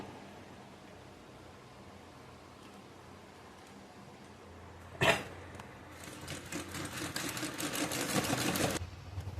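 A sewing machine stitches a sofa pillow cover, starting with one sharp thump, then a fast, steady needle rattle that builds and runs for a few seconds before stopping, close and alone over quiet room noise.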